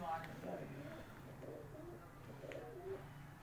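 Pathan breed pigeons at a breeder's loft cooing softly in short repeated calls, with steady background noise and people talking over them.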